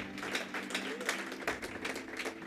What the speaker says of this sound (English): Give Jesus a big clap offering.